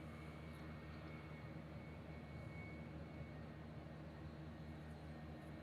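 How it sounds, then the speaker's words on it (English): Distant roar of a JAL Boeing 787 Dreamliner landing on runway 8L at Honolulu airport after a flight from Tokyo Narita, a steady low engine rumble with a faint whine, held evenly throughout with no talk. "There's a jowl Dreamliner coming into 8 left."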